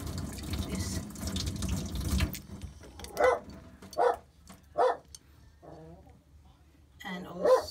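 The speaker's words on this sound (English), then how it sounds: "I will wash first my hand because of this." Tap water runs into a sink for a couple of seconds while hands are washed beneath it, then stops; a dog barks several times close by afterward, with a final louder bark at the end.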